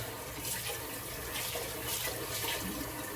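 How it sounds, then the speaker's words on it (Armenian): Water pouring steadily into a cooking pot after rinsing, a continuous close splashing rush that stays fairly even throughout with no voices. "ես ջուր եմ լցնում այստեղ,"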